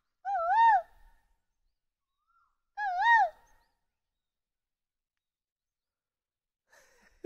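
Two loud, wavering whistled koel calls about two seconds apart, imitated by a human voice in a quiet Pahadi hill-village morning, followed by near silence and a faint knock at the end.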